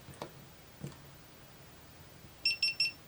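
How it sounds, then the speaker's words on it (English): Three quick high-pitched electronic beeps in a row near the end as a GoPro Hero camera powers on, preceded by a few faint clicks and handling noises in a quiet room. "some beeps tell you it's on"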